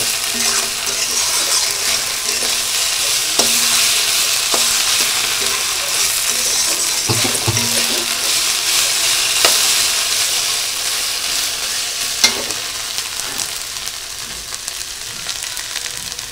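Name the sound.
frying and stirring masala in a pan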